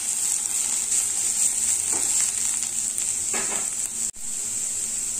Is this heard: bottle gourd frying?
yes